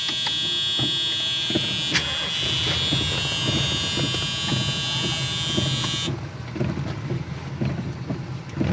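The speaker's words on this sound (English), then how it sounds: "There's your fasten seatbelt buzzer." A steady high-pitched fasten-seatbelt warning buzzer drones for about six seconds inside a 1975 Ford Torino Elite, then cuts off, leaving mechanical rattles and ticking.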